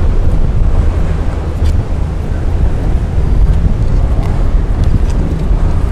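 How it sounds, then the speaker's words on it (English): Strong wind buffets the microphone in a constant low roar and rumble, loud and unbroken throughout. "Whoa, man, it's quite windy."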